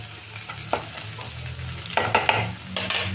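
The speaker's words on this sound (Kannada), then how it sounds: "ಕರಿಬೇವು ಹಾಕ್ಕೊಳ್ತಾ ಇದ್ದೀನಿ." Curry leaves added to frying onion and capsicum for a vegetable gravy crackle in hot oil, a close sizzle broken by several sharp stirring scrapes and spits, with no talking.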